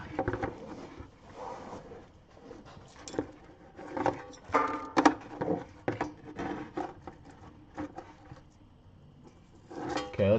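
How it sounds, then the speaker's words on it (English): A bucket is handled near a Corvette during battery work, making scattered knocks, scrapes and clatters at close range over a murky, irregular background. "That's the sound of my bucket."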